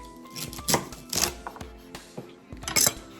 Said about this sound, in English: I like to cut these about 1 inch pieces